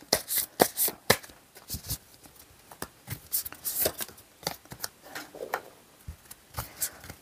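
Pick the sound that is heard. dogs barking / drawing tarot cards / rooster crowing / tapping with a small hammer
drawing tarot cards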